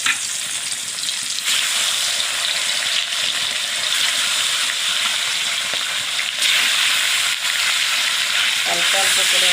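Shingi fish fries in mustard oil in a pan, producing a loud, dense and unbroken sizzle close by, with slight surges in intensity.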